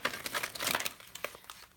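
Tarot deck from the Sacred Circle set being shuffled by hand, giving a quick run of crisp card riffles and crinkly slaps that thin into scattered flicks, close and alone with no talking.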